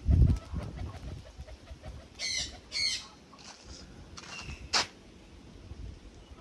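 Four pigeons lifting off and flying in a live pigeon-flying session, with a few short bursts of wing flapping and squawks over a faint outdoor background; one sharp flutter stands out near the end.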